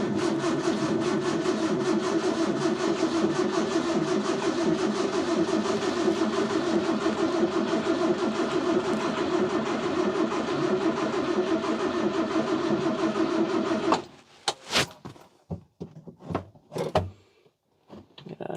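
A 1968 Morris engine cranks and runs roughly for about fourteen seconds, a loud steady mid-pitched drone, then cuts out into a few uneven sputtering coughs and bursts before falling silent.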